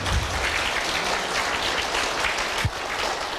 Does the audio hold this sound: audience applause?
yes